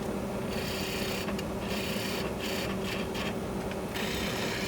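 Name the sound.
bowl gouge turning Osage orange wood on a lathe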